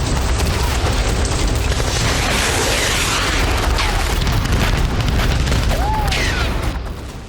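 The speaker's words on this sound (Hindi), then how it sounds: "अजरबैजान आर्मी ने क्लस्टर बमों के धमाके शुरू कर दिए" Cluster bomb explosions in the Armenia–Azerbaijan war: a loud, dense, continuous roar of booming blasts and crackling bursts that fills the whole stretch, easing off only at the very end.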